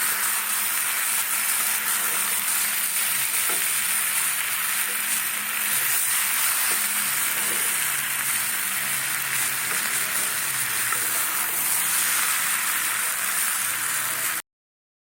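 A curry of new potatoes, yogurt and spring onions sizzles in a pan while being sautéed, a steady bright frying hiss with faint stirring scrapes, close by and with no talking.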